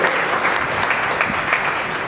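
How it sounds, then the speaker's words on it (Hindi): Audience at a moral education camp closing ceremony gives a steady round of clapping, dense and continuous for a couple of seconds with no voices over it. "इनके सम्मान में भी एक ताली जाकर के सम्मान करते हैं"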